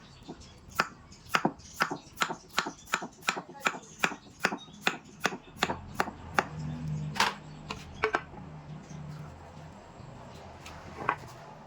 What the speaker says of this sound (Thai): แล้วเราจะหั่นครับทุกคน นี่ หั่นประมาณหนึ่งเซนนะครับ